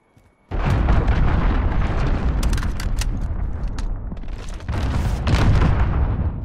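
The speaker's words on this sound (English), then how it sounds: "Allied cruise missile launched." Cruise missile explosion in the video game Modern Warfare, a sudden massive blast erupting after a brief quiet, then a long rolling roar of rumbling detonations and crackling debris, loud and close, swelling again near the end.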